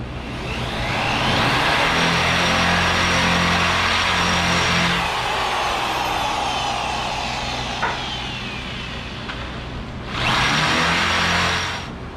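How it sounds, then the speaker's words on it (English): A power drill whines steadily for several seconds drilling two holes in a 1966 Chevy C10 truck, stops, then starts again briefly near the end, loud and close with a grinding, mechanical tone. "we went ahead and got these 2 holes drilled out"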